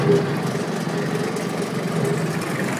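A Kubota L3010 tractor engine runs steadily and close by as the PTO is engaged to drive a brush hog, a continuous dense rumble with no speech.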